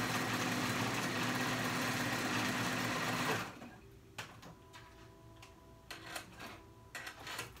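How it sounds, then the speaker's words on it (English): A sewing machine zigzag-stitches two elastic ends together a quarter inch from the edge, running loud and steady for about three seconds, then stopping into quieter handling clicks and a few short bursts. "grab both elastics and meet them together, zigzag stitch them together, 1/4 inch"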